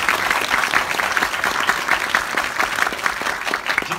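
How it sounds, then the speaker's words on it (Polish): Steady applause from a cinema audience at a film premiere screening, many hands clapping in a dense, continuous patter at moderate volume throughout. "więc ogromne brawa."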